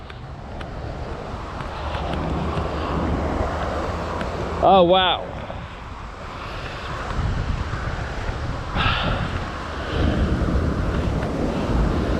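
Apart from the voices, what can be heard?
water rushing over a river weir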